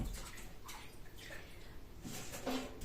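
Something being washed under running water indoors, with splashing and trickling that comes in uneven bursts, fairly quiet and heard without talk.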